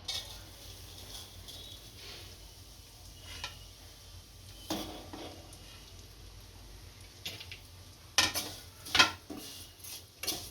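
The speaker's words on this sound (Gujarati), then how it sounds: "આના તવલામાં થોડું ઘી નાખી અને સેવ શેકી લઈશું" Vermicelli roasting in ghee in a pan, heard as faint, low sizzling with soft scraping and a few clearer clinks of a spoon against the pan, alone with no talk.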